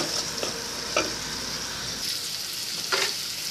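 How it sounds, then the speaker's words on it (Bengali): Salted fish frying in a pan for a Bangladeshi curry, with a steady loud sizzle and hiss. A spatula stirs and scrapes in occasional strokes, and the frying stays close with no voices. "মাছটাকে একটু নেড়ে নেড়ে ভেজে নিব"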